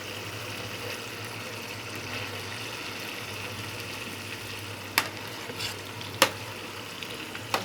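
Eggplant goes into a pan of frying masala and is stirred, a soft steady sizzle with a few sharp scraping clacks from the spoon near the end.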